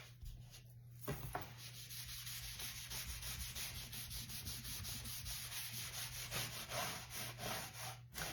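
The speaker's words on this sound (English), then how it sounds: "I'm going to go ahead and use a different wipe because this one's starting to shred on me" Stain being wiped by hand onto an unsanded scrap wood board with a disposable wipe, a steady close rubbing and scraping texture that continues for several seconds alongside a low constant hum.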